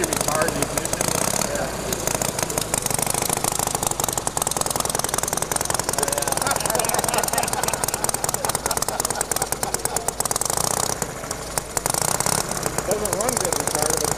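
An engine idles with its ignition timing set well retarded, giving a steady, rough running note throughout while people talk over it at an outdoor engine club gathering.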